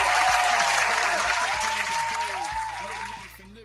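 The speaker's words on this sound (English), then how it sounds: "A round of applause." Applause plays during a live coding and crypto trading stream, a dense burst of clapping that holds for a few seconds before cutting off, with a voice and tonal sounds beneath it.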